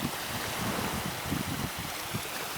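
Water runs down from the hills near a beach like a small waterfall, making a steady, close rushing and splashing wash with no talking.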